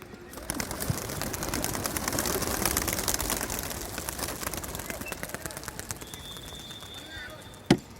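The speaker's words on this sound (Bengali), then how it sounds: "এই যে কবুতরগুলো ছেড়ে দিলাম" Caged pigeons released into the open during a pigeon-racing event, giving steady fluttering and rustling with some cooing, fairly close, and a sharp knock near the end.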